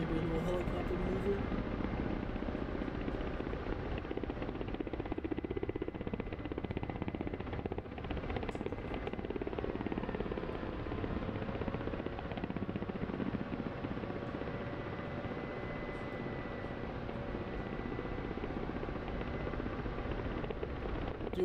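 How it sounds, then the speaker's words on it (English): A steady, loud drone of rotor and engine from a Ka-50 Black Shark helicopter in the DCS flight simulator runs throughout without letup, with a voice talking over it. "Could do maybe a little helicopter maneuver."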